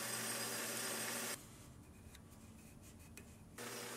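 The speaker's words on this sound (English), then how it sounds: "Now I can face off the end and get this thing trued up" A steady metallic grinding and whirring of a lathe facing off the end of a steel go-kart drive shaft, stopping for a couple of seconds of quiet machine hum, then resuming.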